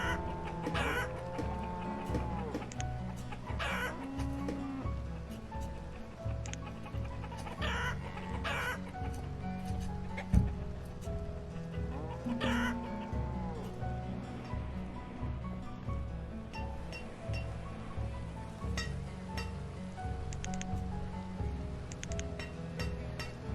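Chickens and a rooster in the town-building game Banished cluck and call repeatedly over a steady ambient game soundscape, with one rooster crow standing out briefly. Each bird sound is fairly clear against the background.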